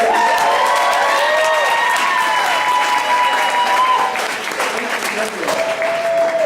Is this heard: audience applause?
yes